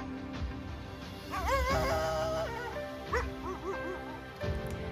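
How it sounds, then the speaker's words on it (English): Mudhol hound puppies whimper and yip in a series of rising, wavering cries with short barks mixed in, fairly close and with no talk over them. "the Mudhol hound"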